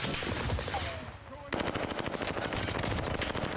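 Rapid automatic gunfire in Call of Duty Warzone on Rebirth Island, a loud continuous burst after a brief lull, with faint voices mixed in.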